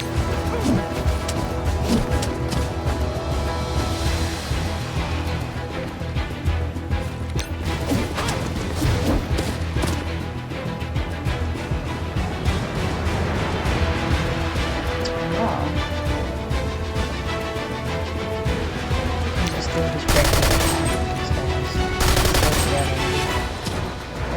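Dense, sustained gunfire and crashing impacts rattle through a Marvel Strike Force battle against a sniper, with layered shots and smashes continuing throughout and two sharper, louder bursts near the end.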